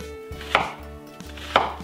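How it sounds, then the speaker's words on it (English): A knife chops through a large sweet onion into big chunks on a cutting board, giving two crisp, close thunks about a second apart against a faint background hum. "You just need 1 large sweet onion and just cut into big chunks."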